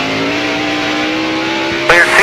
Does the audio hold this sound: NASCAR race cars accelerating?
yes